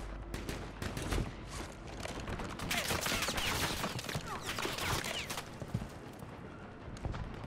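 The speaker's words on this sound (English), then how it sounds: "Who's shooting at me?" Warzone gunfire, dense rapid volleys of shots in a chaotic stretch, bursts overlapping and rising in the middle, moderately loud with no speech.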